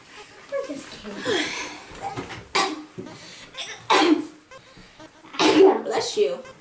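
A single sneeze rings out among short bursts of talk and a chuckle, the voices close and moderately loud around it.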